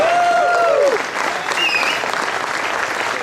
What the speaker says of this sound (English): Let's hear for Iran Barkley.